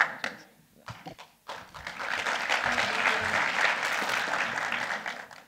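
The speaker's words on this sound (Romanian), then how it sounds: "Vă mulțumesc frumos pentru aplauze" At a mayoral candidate launch event in Onești, Romania, a few scattered claps and knocks build into full audience applause that swells and stays dense and loud to the end.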